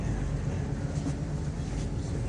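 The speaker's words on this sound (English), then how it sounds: "the train crossed the river and pulled into the Bordeaux train station." Continuous low rumble of a moving train in France, steady and enveloping, like riding inside a carriage, with no talking.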